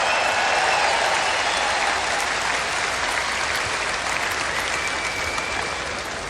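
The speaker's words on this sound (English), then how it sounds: "Another big round of applause for her." A large crowd at the 2016 Republican National Convention applauds in a sustained, dense wash of clapping that stays loud and slowly eases toward the end.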